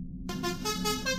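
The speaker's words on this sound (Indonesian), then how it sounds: "Suara klakson bus yang baru saja masuk ke dalam terminal." A bus horn sounds as the bus pulls into a bus terminal: a steady, sustained tone that starts abruptly and holds for about a second, clear and fairly loud over low background rumble.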